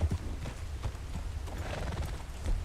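A horse's hooves clip-clop steadily at a walking pace in a video game, close and fairly loud over a low ambient bed, with no talking.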